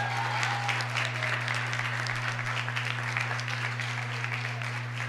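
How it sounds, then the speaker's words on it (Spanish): A classroom audience claps for a student coming up to receive a book at a literature presentation, steady applause over a constant low electrical hum. "Valentina, ven por tu libro. Un aplauso"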